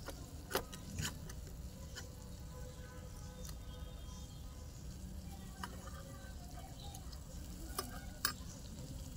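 Eggplant fritters (beguni) fry in a kadai, giving a quiet, steady sizzle with a few sharp clicks and stirring scrapes, and no voices.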